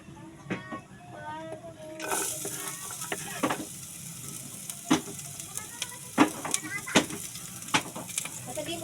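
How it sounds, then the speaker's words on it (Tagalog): Sliced onion hits hot oil in a pan at home and starts a sudden, bright sizzle that keeps crackling steadily, with intermittent clinks of utensils and a spoon stirring now and then. "ilalagay ko na pala ang ating sibuyas"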